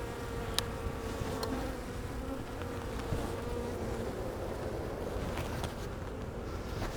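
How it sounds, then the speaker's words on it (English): Yellow jackets swarm around a beehive, a continuous close buzzing drone of many insects with a few brief clicks and taps and no talk. "it looks like the yellow jackets are just swarming around and then landing and coming into the hive"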